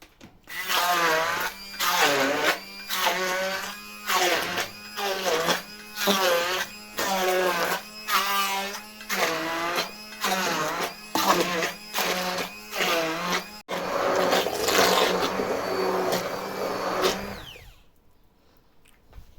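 A blender pureeing diced kiwi whirs in repeated short pulses, then runs in one longer continuous burst before stopping.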